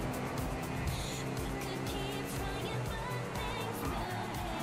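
A Porsche races through a GTA V game world, its engine a steady, loud, dense roar throughout with faint tire noise and a voice briefly talking over it.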